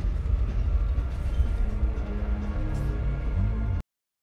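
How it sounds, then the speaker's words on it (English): A video game train starts to move along its track, a steady rumbling roll with faint rhythmic clatter, fairly loud and continuous before it cuts off abruptly. "And the train starts to go."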